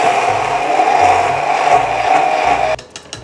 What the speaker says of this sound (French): Donc là je prends mon mixeur plongeant.